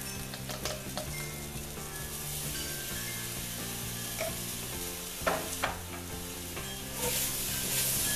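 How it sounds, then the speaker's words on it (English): Minced garlic sizzles in a Dutch oven after browned beef for stroganoff. The frying is loud and constant, with utensil scrapes and stirring clatter across the clip and a brighter burst of sizzle near the end. "Next, I'm adding a teaspoon of minced garlic."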